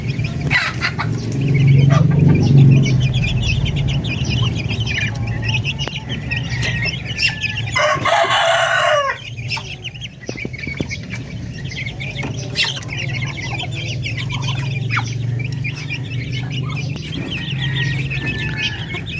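Cobra and splash Orpington crossbreed chickens on a Filipino backyard farm cluck and call steadily at close range, with a brief burst of wing flapping midway and faint bird chirps in the background.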